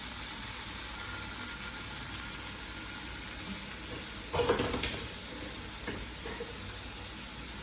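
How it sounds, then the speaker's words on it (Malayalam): Sautéing for Kerala curd curry (thairu curry) in a pan, a faint continuous sizzle with a couple of brief stirring scrapes near the end, no talking. "എന്നിട്ട് ഒരു 2 മിനിറ്റ് നന്നായി ഒന്ന് വഴറ്റുക."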